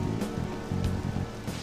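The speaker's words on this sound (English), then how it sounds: "This rain ain't too bad." Rain in the Persona 5 video game, a steady close patter with soft repeating pulses and no one speaking over it, filling the short moment evenly.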